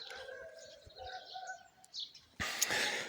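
Birds chirp and twitter outdoors in spring at a moderate distance, several calls overlapping, before a louder burst of broadband noise near the end.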